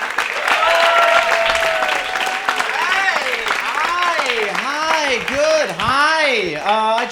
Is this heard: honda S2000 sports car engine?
no